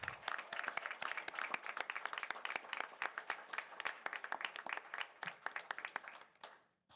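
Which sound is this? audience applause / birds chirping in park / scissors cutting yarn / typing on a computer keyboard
audience applause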